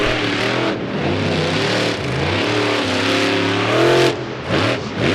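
A monster truck at the Fall 4-Wheel Jamboree Nationals in Indianapolis revs hard on the track, its loud engine rising and falling in repeated bursts as the truck spins around and climbs the center stack backwards.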